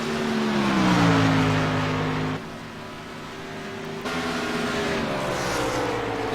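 Race cars lap a track, a loud engine whine swelling and falling in pitch as cars pass close by, with another car roaring past near the end.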